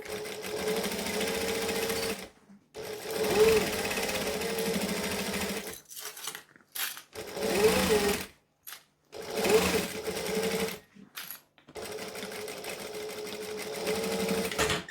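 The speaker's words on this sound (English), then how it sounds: "I'm going to come back and stitch over this section a little bit extra because it's the handle." A sewing machine stitches over a bag handle in several steady bursts of whirring, separated by short pauses, close and alone.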